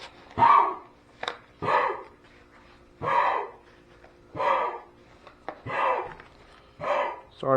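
A dog barks in a steady series of about eight sharp, close barks spaced roughly a second apart, with breathy whimpers between them, outdoors by a pool.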